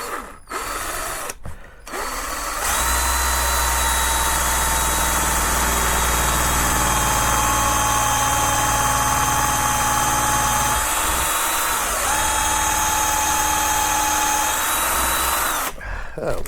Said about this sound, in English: My long auger bit that I used on the last build.